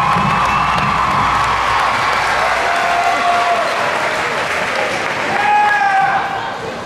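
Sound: crowd applauding the football team

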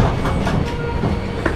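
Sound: Pothigai SF Express train departing station

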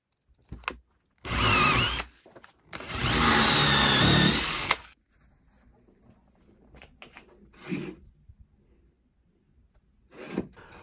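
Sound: power drill drilling wood

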